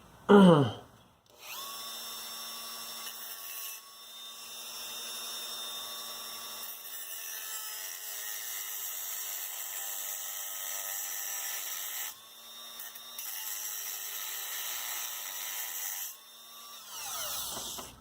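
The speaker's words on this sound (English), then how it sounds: "I'm just gonna literally just Dremel a slide across these." A Dremel rotary tool cuts slots into motorcycle carburetor slides from a Honda SuperHawk 996 (VTR 1000), giving a close, high whine in long sustained passes that pause briefly and restart, with a short rising spin-up at the start.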